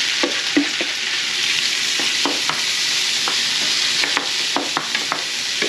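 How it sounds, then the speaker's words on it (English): Corn kernels sizzle in olive oil in a pan over high heat for a Mexican street corn salad. A constant loud frying hiss is broken by scattered scrapes and knocks of stirring, with no talking. "we're going to cook the corn"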